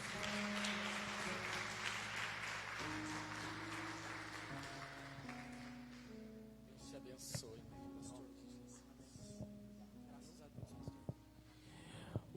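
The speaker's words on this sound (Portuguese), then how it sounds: "E as palmas louvam ao Senhor, irmãos" A church congregation claps in praise at a Portuguese-language evangelical service, steady applause filling the room with music and voices mixed in, thinning toward the end.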